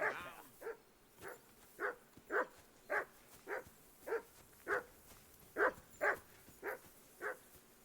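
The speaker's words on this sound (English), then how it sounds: "Do something with that mutt, Henry. It's doing my head in." A dog barks repeatedly in Kingdom Come Deliverance, a steady run of about a dozen sharp, evenly spaced woofs at moderate distance over a quiet outdoor background.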